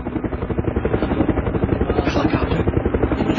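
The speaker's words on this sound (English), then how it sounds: "Helicopter!" A helicopter in the video game Resident Evil Survivor thumps loudly and steadily, the rapid rotor pulses close and continuous with a rising whine near the end.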